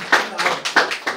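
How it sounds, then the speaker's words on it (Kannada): Audience applause at a Kannada cultural event, heard as a few bursts of hand clapping that swell and fade over about a second, fairly close and moderately loud. "ಅವರೊಂದು ನಾಯಕತ್ವಕ್ಕೆ ನಾವು ಒಂದು ಚಪ್ಪಾಳೆ ಕೊಡೋಣ"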